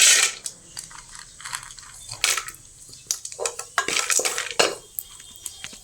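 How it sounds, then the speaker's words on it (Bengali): Cashew nuts are tipped into ghee in a wok, rattling and clattering against the metal in quick, close bursts with scattered clinks and no speech. "এখানে আমি 1 চামচ ঘি দিলাম কাজু বাদামটা ভাজার জন্য"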